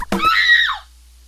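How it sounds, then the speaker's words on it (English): A loud, short scream sound effect used while scoring a movie in GarageBand: a single sharp shriek that rises and then trails downward, with near silence afterward. "So I'll bring the scream right to there."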